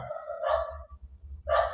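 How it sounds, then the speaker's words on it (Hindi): A dog barks twice, about a second apart, each a sharp bark at moderate distance over a low background rumble, with no talking. "चलिए कुत्ता शांत हो गया है"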